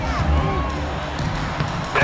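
A home crowd cheers and roars during an NBA 2K26 basketball game, a dense continuous wall of arena noise with rising shouts near the end.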